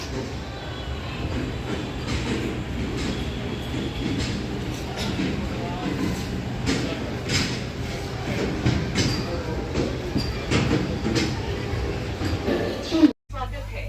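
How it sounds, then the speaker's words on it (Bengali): A saffron Vande Bharat Express on the Tatanagar–Patna route rolls into the platform, with a continuous rumble and rhythmic clickety-clack of wheels over rail joints, loud and close, while people talk nearby. "ট্রেন ঢুকছে"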